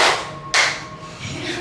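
A classroom of students claps together on cue: a sharp single clap at the start and a second crisp burst half a second later. Both are loud and close and fade into faint room noise.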